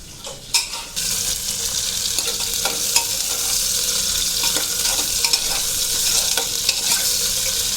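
Cauliflower florets frying in a pan for a Navratri gobhi dish, a loud steady sizzle with regular spatula scrapes and clanks, starting with a few sharp knocks, no speech.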